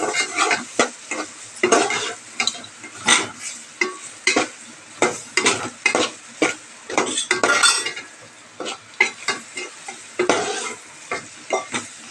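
A spoon stirs vegetable sambar with chili powder in a cooking pot, giving repeated scraping and clinking strokes at an uneven rhythm, close and clear over a faint sizzle.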